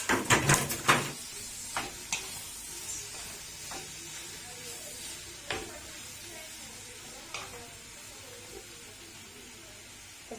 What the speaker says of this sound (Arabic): هنبتدي بقى نحط اللحمة المفرومة